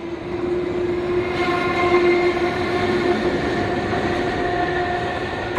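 A Class 319 third-rail electric multiple unit passes in southern England with a steady, loud electric whine and a rumble of wheels that hold for several seconds.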